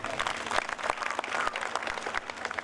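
A crowd at an outdoor religious pilgrimage gathering applauds village youths, lively dense clapping that swells and dips, with a voice faintly heard beneath.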